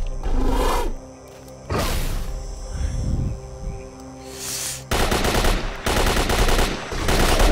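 AK rifle fire in S.T.A.L.K.E.R. Call of Pripyat, loud rapid automatic bursts mixed with roaring creature sounds and in-game noise, ending in sustained heavy firing.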